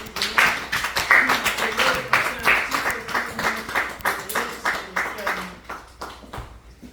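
A church congregation applauding during a service, rapid uneven clapping that pulses steadily and thins toward the end, with voices mixed in.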